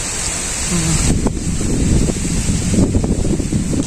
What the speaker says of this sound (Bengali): বন্ধুরা কীরকম বাতাস ছাড়ছে